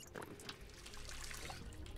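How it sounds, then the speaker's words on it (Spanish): Water trickling and splashing in a steady faint stream for about two seconds, a drinking sound in the zombie survival game Project Zomboid, with no talk over it. "¿Podemos tomar agua aquí? Beber"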